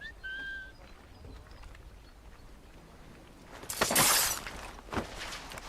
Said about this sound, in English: Oh, I can whistle?